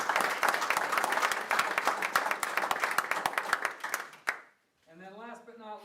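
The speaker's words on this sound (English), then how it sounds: "Would you join me in a round of applause for these great..." Audience applause fills a school event in a large room, a dense, steady round of clapping that fades out before a voice begins speaking near the end.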